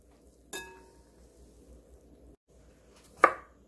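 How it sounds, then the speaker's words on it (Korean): A knife chopping soaked seaweed (miyeok) on a cutting board for a cucumber-seaweed cold soup: two separate, crisp chopping strikes, well apart, in an otherwise quiet kitchen. "먼저 불린 미역을 썰어줄게요."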